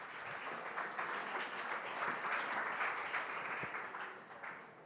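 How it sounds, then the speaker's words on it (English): Conference audience applauding as a hospital robotics founder takes the stage: dense, steady clapping from a room full of people, swelling and then tapering off near the end. "So please give a warm round of applause as soon as the chair leaves the stage"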